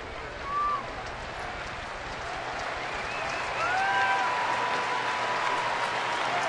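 A Brewers vs Phillies baseball crowd at Milwaukee in 2009 claps and murmurs, a distant wash of applause that swells midway with scattered whistles, under a broadcaster's voice.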